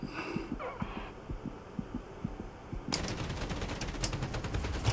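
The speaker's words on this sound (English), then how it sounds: "No, stop it with the cannon rounds." Rapid bursts of heavy aircraft cannon fire from a WW2 Bf 109 K in the flight simulator DCS hammer away, growing denser and louder partway through, with a low throbbing rumble underneath.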